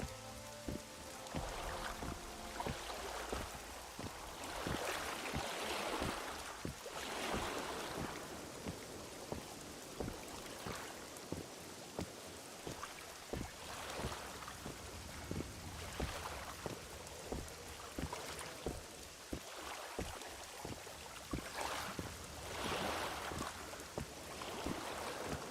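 Steady rain falling in The Witcher 2 video game, a dense continuous patter of drops with surges and brief louder splashes, heard alone without talk.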